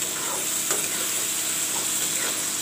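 Tomatoes fry in a hot pan for a chicken dhaniya curry, giving a continuous close sizzle with soft stirring scrapes and no talking.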